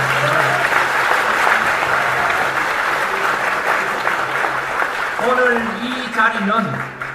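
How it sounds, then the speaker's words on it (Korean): Large audience at a security policy forum claps together in loud, sustained applause, with a voice speaking over the clapping as it tapers toward the end. "우리 모두 함께 박수로 한번 치고 분위기를 만들겠습니다."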